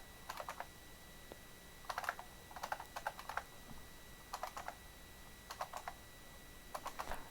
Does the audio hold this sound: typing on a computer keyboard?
yes